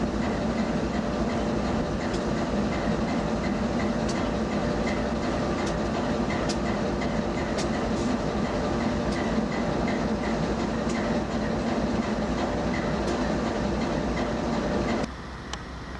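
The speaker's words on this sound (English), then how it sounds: "Well, here's our train at Fort Steele." A CP Rail coal train with distributed power rolls past Fort Steele, a loud, steady rumble with rhythmic wheel clicks over rail joints for the whole stretch, dropping slightly in the last second.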